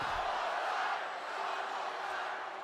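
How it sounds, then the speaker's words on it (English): Loud crowd noise from a wrestling arena in the WWE 2K25 video game, a dense continuous roar and chant filling the whole stretch with no speech over it. "One more time, the crowd are chanting."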